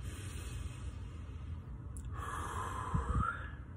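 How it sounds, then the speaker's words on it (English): A person draws one deep breath in through the nose, a quiet rushing inhale that swells briefly near the end, heard alone against faint background hiss. "Seriously, breathe it in."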